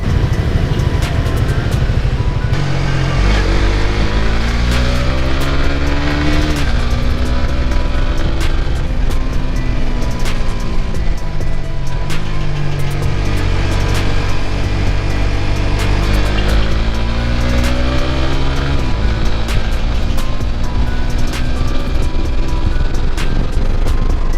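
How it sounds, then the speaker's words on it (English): A Suzuki GSX S150 motorcycle engine revving loudly and continuously, its pitch climbing and then dropping sharply at each clutchless upshift, repeating through several gears, with heavy wind buffeting and no voices. "you have to release the gas, kick the gear up, put the gas back on"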